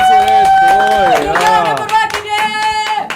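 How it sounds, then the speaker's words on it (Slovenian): A studio audience claps for two women's basketball champions from ŽKK Cinkarna Celje, steady applause under lively voices and singing-like tones. "Dajmo en aplavz za"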